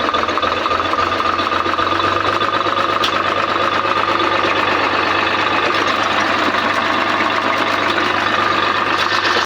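A tractor engine idles with a steady, loud rumble and a rapid mechanical chug that holds constant throughout.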